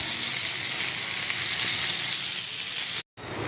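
Sankara fish sizzles steadily in hot oil in a pan, a loud, even frying hiss that runs continuously for about three seconds and then cuts off abruptly.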